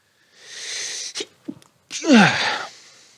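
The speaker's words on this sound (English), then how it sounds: "I don't think your back's meant to crunch when you sneeze" A single loud, close human sneeze with a breathy inhale build-up, a couple of quick catching gasps, then a forceful explosive release that trails off.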